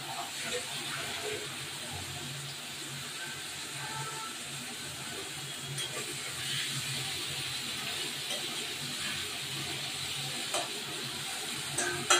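Large salt-rubbed prawns fry in oil with a steady, close hiss of sizzling that runs unbroken throughout, with a few faint pops and crackles.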